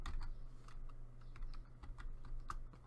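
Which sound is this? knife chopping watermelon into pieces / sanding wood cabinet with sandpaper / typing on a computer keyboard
typing on a computer keyboard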